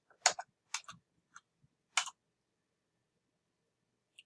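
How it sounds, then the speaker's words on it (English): Computer mouse clicks at a desk during work in SQL Server, a handful of crisp, close, quiet clicks in quick pairs with short gaps between them. "if I right mouse click"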